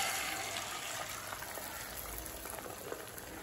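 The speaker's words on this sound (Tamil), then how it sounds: "இப்போ இது கூடவே மூணு முட்டை அடித்து சேர்த்துக்கலாங்க." Three beaten eggs fry in oil in a kadai for egg fried rice, giving a steady, close sizzle and bubbling hiss that continues without a break.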